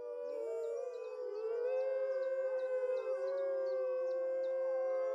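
Several wolves in a captive pack give a defensive howl: long, sustained, wavering tones that overlap in a loud, continuous chorus with no pauses.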